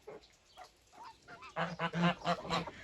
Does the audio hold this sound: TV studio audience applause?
no